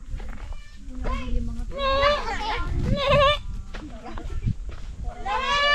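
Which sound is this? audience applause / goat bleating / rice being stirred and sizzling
goat bleating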